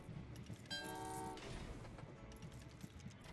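Trains rolling along tracks in the railway puzzle game Train Valley 2, with a brief steady horn-like tone near the start over continuous low rumbling movement, no talking.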